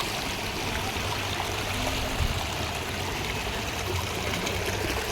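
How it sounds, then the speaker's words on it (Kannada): A river in Dubare forest flows steadily while being crossed, giving a broad, continuous rushing and gurgling wash of water that holds an even level throughout, with no voices. "ನೋಡಿ ಎಷ್ಟು ನೀರು ಹೋಗ್ತಾ ಇದೆ ಅಂತ"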